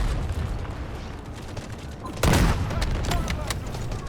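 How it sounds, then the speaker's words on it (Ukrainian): Gunfire in the Delta Force video game, a loud sharp burst of shots near the middle among scattered reports and background game noise, with faint talk in places. "Типа, на них хтось стріляє чи що?"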